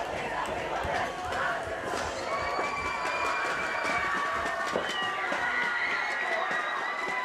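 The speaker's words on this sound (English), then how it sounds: "The crowd now chanting, "I believe that we could win."" Football crowd at a varsity high school game (La Quinta at Bolsa Grande) chanting and cheering late in the game, a dense, steady roar of many voices filling the stands throughout.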